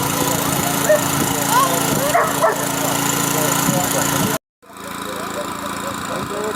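A dog barks and yips in an outdoor riverside setting during traditional river fishing, the calls mixed with a steady engine-like drone and background noise, broken by a brief silence near the end.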